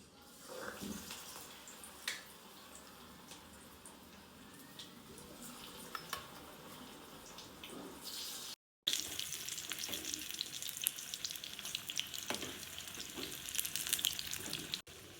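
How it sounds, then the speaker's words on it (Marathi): Hadga flower bhaji, gram-flour fritters, fry in hot oil, giving a steady soft sizzle and crackle with light stirring. The sound breaks off briefly, then returns slightly louder. "आपण आता ही भजी एक एक करून तेलामध्ये सोडूया."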